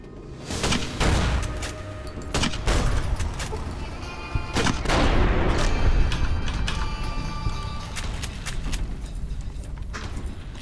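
Incendiary gunfire in Fallout New Vegas: a rapid series of sharp shots and heavy booms, irregularly spaced over a rumbling game background, loud and close.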